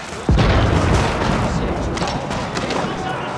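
Siege cannons fire in Age of Empires 4, opening with one sharp, loud blast followed by a rolling rumble and scattered smaller impacts and crashes as the bombardment continues.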